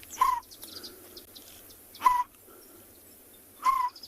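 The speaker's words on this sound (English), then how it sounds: "one of them is one of the smallest owls, and that's African scops owl" An African scops owl gives three short purring calls spaced a couple of seconds apart at a South African safari site, with faint insect chirps steady underneath and no voices.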